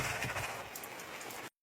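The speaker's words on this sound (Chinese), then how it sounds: "这么大雨，我也没带伞" Heavy rain drums steadily and densely on the roof of a camper van parked at a mountain campsite in southern Anhui, a close continuous patter that stops abruptly near the end.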